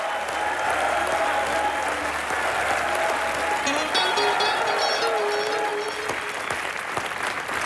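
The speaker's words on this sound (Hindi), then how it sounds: "सुनिधि के लिए एक बार जोरदार तालियां।" A comedy-show studio audience bursts into loud, continuous applause to welcome a guest named Sunidhi, with a host's voice and scattered cheers audible over the clapping.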